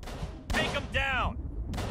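Several sharp gunshots ring out in Call of Cthulhu: Dark Corners of the Earth, in short loud bursts spaced a few tenths of a second apart, with a voice in the clip talking between them.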